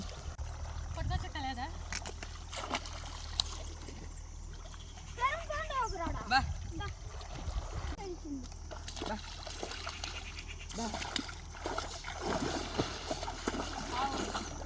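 Water splashes and trickles as it is scooped and poured over cows being washed in a village river, with irregular pours spread through the clip and voices talking nearby.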